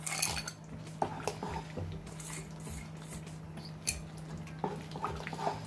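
A spoon clinks and scrapes in a pot while wheat halwa with ghee and fried cashews is stirred, giving a run of light metallic taps and knocks over a steady low hum, with no voices.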